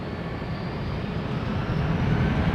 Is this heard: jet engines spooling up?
yes